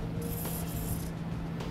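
A close aerosol hiss of spray lubricant sprays steadily for about a second over a low mechanical hum, then cuts off, during a trailer hitch installation on a 2007 Ford Freestyle.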